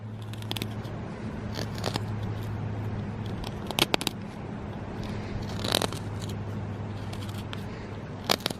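A knife carving a notch into a wooden bow drill fireboard, sounding as sparse close scraping and crunching cuts over a steady low hum, with no talk.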